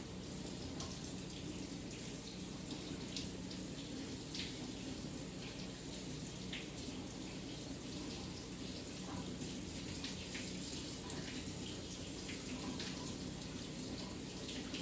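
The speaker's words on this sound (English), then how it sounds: "we will wash our hands and make sure the water goes from the least contaminated area to the most contaminated area" Hands being washed under a running sink tap during a PPE sanitization routine: a steady, continuous splash of flowing water that lasts throughout, with no voices.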